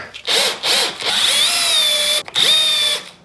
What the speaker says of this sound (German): schraub mal die Latte da fest